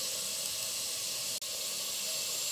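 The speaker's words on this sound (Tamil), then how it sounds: "கேப்சிகம் நல்லா ஃப்ரை ஆயிடுச்சு." Capsicum fries in oil in a pan over a low flame, giving a steady, even sizzling hiss close by that breaks off for an instant before carrying on.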